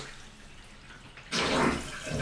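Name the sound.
water running through new vanity faucet and drain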